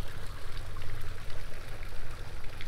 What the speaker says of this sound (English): Has some decorative frogs that spit water and a little waterfall.